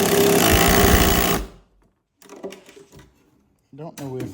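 Impact wrench driving an Allen key on a racing kart while installing lead weights: a loud, continuous mechanical rattling burst for about a second and a half, cutting off abruptly, followed by quiet handling clatter and brief talk.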